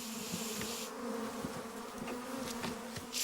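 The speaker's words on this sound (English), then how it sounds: "The cold water has the effect of calming the bees, at least temporarily." Honey bees buzz around a hive, a dense, steady hum of many insects with individual wings flicking past close to the ear.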